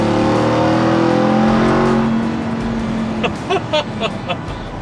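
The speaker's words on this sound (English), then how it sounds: "a beautiful audible blend of supercharger whine and exhaust note" A supercharged 2021 Ram 1500 TRX pickup engine revs hard with a rising supercharger whine and throaty exhaust, then eases off into rumbling with a few sharp pops near the end.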